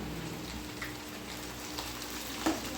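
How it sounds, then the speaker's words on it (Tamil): Bread pieces frying golden in ghee in a pan for bread halwa, a soft, even crackling sizzle heard close, with a faint clink near the end. "ப்ரெட்டை துண்டு துண்டாக போட்டு அதில் போட்டு பொன்னிறமாக அதை வந்து வறுக்கணும்"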